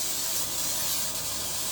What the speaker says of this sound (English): I'm just going to spray my pan